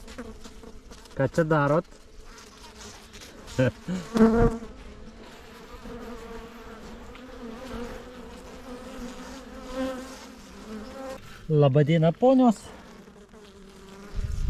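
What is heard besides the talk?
honey bees buzzing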